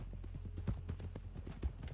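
Horse hooves clip-clop in an online multiplayer video game, a quick irregular run of muffled thuds at moderate volume against a low background rumble.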